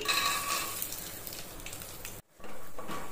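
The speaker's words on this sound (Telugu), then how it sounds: "ఆయిల్ కొద్దిగా హీట్ అయ్యాక గ్రౌండ్ నట్స్ వేసుకుందాము" Groundnuts fry in hot oil in a pan, a close, steady hiss and crackle that cuts out for an instant and then resumes.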